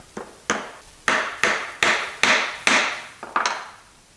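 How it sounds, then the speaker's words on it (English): Glued dowel rods being tapped into drilled holes in construction-lumber table legs, nine firm hammer knocks on wood in an irregular rhythm, loud and close with no talking. "just tap them in there till they bottom out"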